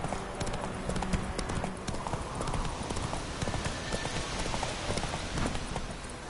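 A horse's hooves clip-clopping in The Witcher 3 video game, a steady dense run of hoofbeats over a constant wash of ambient noise, like rain or wind, throughout.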